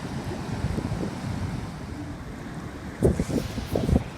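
Ocean waves breaking on a shore, a soft rolling wash with wind buffeting the microphone, then a couple of louder thumping surges near the end.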